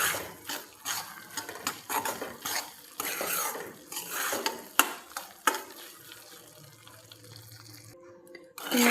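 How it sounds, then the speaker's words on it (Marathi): Semolina for rava sheera being stirred and roasted in ghee in a pan: a steady, close scraping and shuffling with soft sizzle, repeated stirring strokes throughout, briefly quieter near the end. "तुम्ही बघू शकता की आपण याला परतवतोय."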